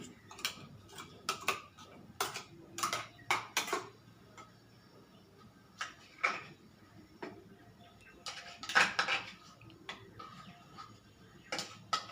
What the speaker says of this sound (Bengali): একটু গরম জল দিই চামচ দিয়ে একটু নেড়ে নিই